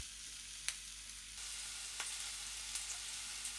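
A ground spice paste made with dried coconut sautés in a little oil, giving a soft, even sizzle with a few faint clicks of a spoon against the pan, close and quiet, no voices.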